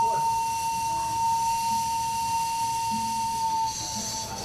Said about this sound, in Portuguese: esse vapor que está subindo ao longo da fábrica